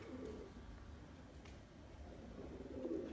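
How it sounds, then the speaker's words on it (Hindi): A prize-winning racing pigeon, a cross between Kali Duniya and Daku breeds, coos softly in a few low, rounded calls against faint background noise. "ये हमारा पिछले साल का चैंपियन कबूतर है"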